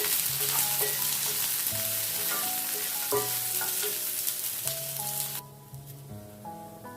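Onion frying in oil for mutton gravy gives a close, continuous sizzle with occasional stirring, while steady background music plays underneath and drops quieter near the end.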